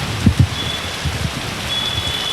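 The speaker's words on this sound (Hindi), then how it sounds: "इतनी तेज़ बारिश हो रही है" Heavy rain pours in Dhanbad during Durga Puja as a dense, steady hiss with a few low thumps near the start.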